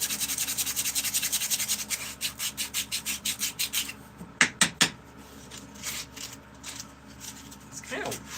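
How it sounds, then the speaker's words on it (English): Rough-grit abrasive works a spoon in fast, rhythmic rasping strokes that then slow into a few heavier, irregular scrapes and scuffs, close and fairly loud. "It's kind of wild how much material you can remove on this spoon with some really rough grit."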